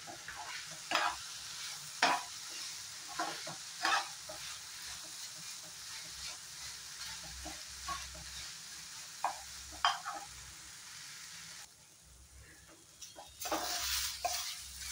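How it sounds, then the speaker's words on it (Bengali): Onion, garlic, tomato, ginger, green chilli and whole spices such as cloves, cardamom, cinnamon and bay leaf fry in a pan for a chicken dish, with a quiet sizzle and frequent sharp stirring clinks, a louder hiss near the end. "আবার ফ্রাই করে নেব।"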